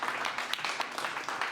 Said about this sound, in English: round of applause for Antara.